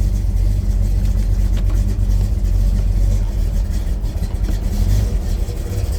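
A custom 1980 Pontiac Trans Am roadster with a shaker hood drives along, its engine giving a loud, deep, steady rumble with slight swells of throttle throughout.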